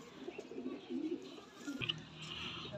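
A Rampuri pigeon with a black tail and black neck ring gives soft, low cooing in short repeated phrases, faint and fairly close in a quiet setting.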